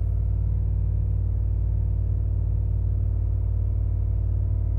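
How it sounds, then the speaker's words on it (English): A car engine holds a loud, steady, low rumbling drone at elevated revs without settling back down, showing throttle hang during a tuning test, heard close and alone with no talking. "And we're actually getting throttle hang, which is very interesting."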